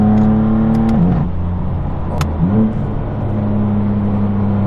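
A straight-piped BMW car accelerating hard on a highway in fourth gear: a loud, steady engine drone with harmonics that dip briefly, then climb again as the revs build, close and continuous with no talk.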